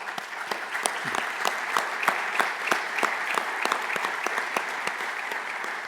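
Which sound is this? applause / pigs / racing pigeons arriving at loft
applause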